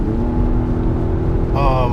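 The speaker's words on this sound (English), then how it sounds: "It's not synthetic sound; it's the real engine sound," Steady engine drone from inside a 2016 Lexus RX350 F Sport AWD, its real engine note amplified through an airbox sound generator, loud and continuous while driving, with a voice talking over it.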